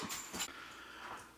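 Dogs waiting to go outside, panting close by with a few short whimpers and breathy huffs, quiet and intermittent.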